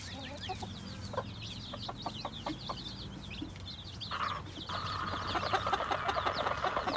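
Chickens cluck in a run of short, close, repeated calls, with other birds chirping faintly behind and a louder sustained call building toward the end.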